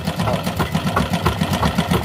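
A sewing machine runs up close while stitching towels, with a loud, fast, steady mechanical chatter and a whirring motor hum throughout.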